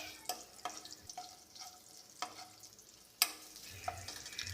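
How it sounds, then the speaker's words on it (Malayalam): Whole spices sautéing in hot oil for chicken kurma, a faint crackling sizzle with sharp spoon taps and scrapes against the pan at irregular intervals, close up and without talk. "അതും വരെ നമ്മൾ എണ്ണയിൽ വാട്ടുക കേട്ടോ"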